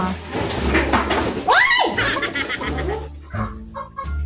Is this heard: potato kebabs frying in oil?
no